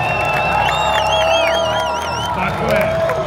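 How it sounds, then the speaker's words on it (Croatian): Outdoor motorsport crowd at a Red Bull Showrun street demonstration in Sarajevo, cheering and clapping loudly under an announcer's amplified voice, with whistles and whoops rising over the din. "Dajte mu aplauz."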